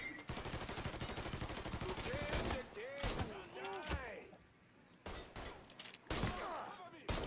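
Gunfire in the game Mafia III, rapid bursts of shots and sharp single cracks separated by short pauses, with a voice speaking in between.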